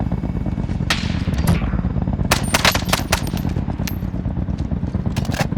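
Rapid, continuous bursts of FAMAS rifle fire in the Call of Duty: Warzone video game, a dense rattling stream with a few sharper cracks standing out.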